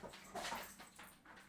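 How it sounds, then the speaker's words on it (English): A dog bursts in excited after coming back from a walk, giving soft whimpers and yips that rise and fall in short bursts, close by and moderately loud. "Yes, that was the dog coming in to say hi."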